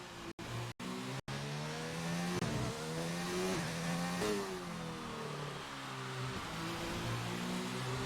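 A McLaren Formula 1 car in F1 2019 at the Hungary circuit, heard on board. The engine screams steadily and shifts pitch through gear changes and acceleration, alone and fairly loud, after a few brief dropouts at the start.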